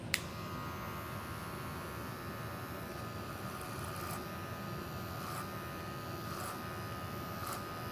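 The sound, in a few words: electric hair clippers buzzing during haircut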